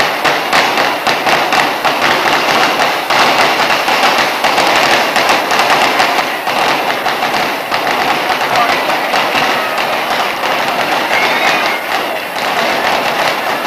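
A Maltese festa fireworks display releases over 5,000 mortars continuously, making a dense, loud, unbroken crackling barrage of rapid bangs that lasts throughout without letup.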